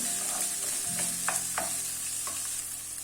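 Onions, peppers and crushed garlic sauté in a pan with a steady close hiss, broken by a few light scrapes and knocks of a spoon stirring them around.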